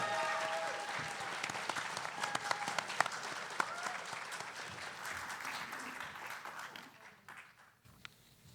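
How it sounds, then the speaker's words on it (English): A large audience applauds to welcome a contestant on the FameLab stage, dense sustained clapping with sharp individual claps standing out, gradually thinning and dying away near the end. "A massive round of applause, and please welcome our fourth contestant"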